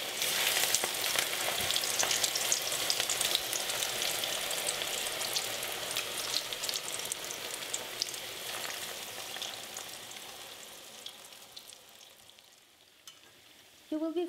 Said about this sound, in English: You will be frying this about 3 to 4 minutes on each side, depending on how hot is your oil.